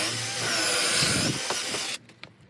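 A power drill boring a concealed hinge hole in a cabinet whirs steadily for about two seconds, then cuts off, followed by a few faint clicks and knocks.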